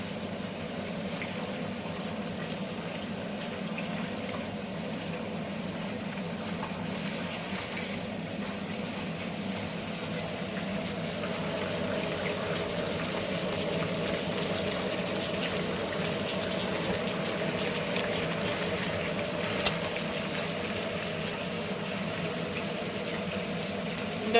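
Chicken fries for doro in a clay pot, a continuous bubbling sizzle that holds steady and grows slightly fuller partway through, with no talking.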